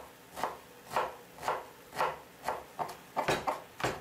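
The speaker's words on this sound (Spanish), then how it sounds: "Cortamos la cebolla en cubos, como para un aderezo o como para complementar esto." A knife chops onion into small cubes on a board, giving about ten evenly spaced, crisp taps that quicken slightly toward the end, close and alone.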